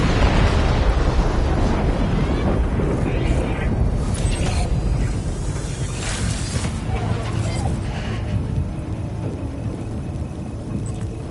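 Gunfire and explosions in the video game Death Stranding 2, a dense, loud rumble of blasts and bursts with crashing debris, sustained throughout, with voices mixed in at times.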